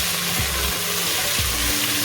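Ground garlic and ginger sizzle and fry in a pan with a steady, soft crackling hiss, joined by a couple of brief low scraping stirs, close and alone.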